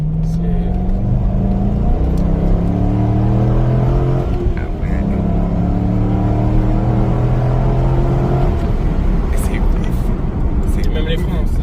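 Chevrolet Corvette C5 V8 accelerating hard through repeated gear changes, its deep engine note rising in pitch in several stepped pulls, loud and close, with occasional talk over it.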